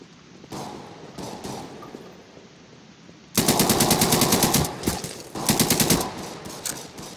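Rapid automatic gunfire in a Garry's Mod game film, with a few softer distant bursts followed by loud, close sustained machine-gun volleys of rhythmic rattling shots.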